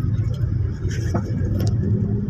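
Congested street traffic in the 30 Ilir Suro area of Palembang, a continuous low engine rumble of nearby cars and motorbikes with brief higher engine whines, steady and fairly loud.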